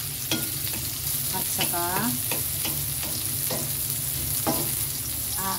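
Tomato, ginger, onion and garlic sizzle in a pan for a banana blossom dish, with steady frying hiss and repeated scraping stirs of a utensil, close and continuous, while someone talks briefly over it.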